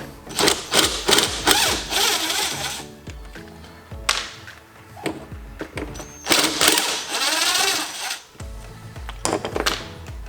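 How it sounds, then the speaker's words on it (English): Torx T25 driver backing two screws out of parts on a BMW N55 engine, giving a busy run of close, sharp metallic clicks, ratcheting and scraping bursts with short pauses between. "I'm going to take those 2 screws out"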